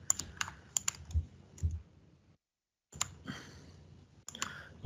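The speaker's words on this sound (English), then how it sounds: "Double click." A computer mouse clicks in quick pairs and short bursts during a logic-converter software demo. The crisp, close clicks break off for a brief silence, then resume, with no talk.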